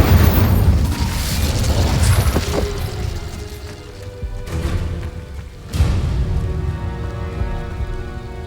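Incendio fire spell cast in a Harry Potter video game: a loud, roaring whoosh and burst of flame with rumbling booms, swelling again midway, then sustained crackling with a steady tonal hum beneath, no speech.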